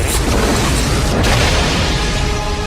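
Loud, sustained movie explosions rumble across an island in a dense, continuous roar of booms and bursts lasting the whole stretch before cutting off abruptly.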